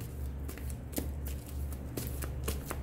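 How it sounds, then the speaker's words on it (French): Playing cards are shuffled and drawn from a personal deck, with close, crisp riffling and snapping flicks repeating in quick irregular bursts and no talk. "Je vais piger seulement 2 ou 3 cartes."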